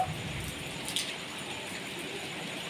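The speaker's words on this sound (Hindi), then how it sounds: "अरे अरे अरे, बारिश फिर से इतनी तेज हो गई।" Heavy rain falls in a steady, faint hiss with scattered drips and patters on surfaces, continuous throughout with no talk.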